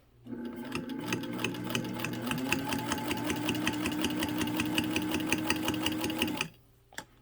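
A 1934 Singer 15-91 sewing machine stitches through a 1.5 mm leather hide in a fast, even, rhythmic chatter that lasts about six seconds, then stops with a faint click.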